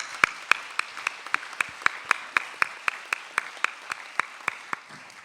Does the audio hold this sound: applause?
yes